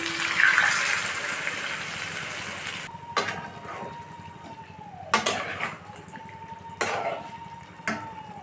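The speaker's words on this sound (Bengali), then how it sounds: "এবার আমি জল দিয়ে দেবো" Water is poured into a cooking pot of jackfruit curry, with a faucet gushing first and then a few short splashes and clinks of a bowl against the pot at close range.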